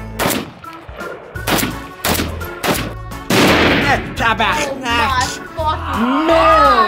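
Video game gunfire rings out in loud, rapid repeated shots, punchy bursts in close succession with thumping impacts, while a voice shouts and reacts over the action.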